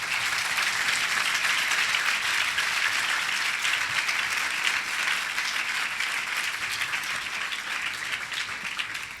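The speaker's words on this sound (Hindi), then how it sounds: "तमाम माँओं के लिए एक दफ़ा ज़ोर से ताली बजाएं।" A church congregation on Mother's Day claps loudly for mothers during a sermon, a thick, continuous round of applause from many people that stays strong and even for about nine seconds before tapering at the end.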